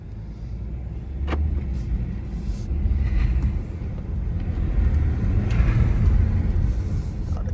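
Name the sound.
2024 BMW 530i xDrive car driving forward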